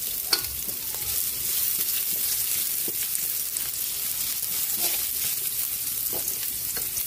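Garlic and onion frying in a pan give off a loud, dense, continuous sizzle close by. Scattered clicks and scrapes from stirring break through it, and nobody speaks.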